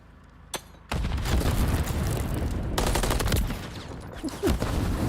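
Rapid gunfire from a Call of Duty League match, with dense bursts of automatic shooting and sharp reports running almost without a break, loud and close, plus a few isolated shots.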